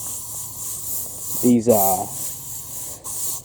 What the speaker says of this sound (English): Almost forgot to spray this.